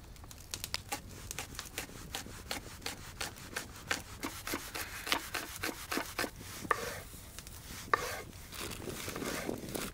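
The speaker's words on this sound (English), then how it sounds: "We start by slicing the white onions and the cherry tomatoes." Knife slicing white onions and cherry tomatoes outdoors in freezing cold, a steady run of sharp, close chopping strokes on a board, repeating roughly every half second with some rubbing scrapes between.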